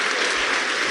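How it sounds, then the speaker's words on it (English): Crowd applause at an outdoor political campaign rally, a dense steady wash of clapping close and loud throughout with no talk over it. "Give him a round of applause."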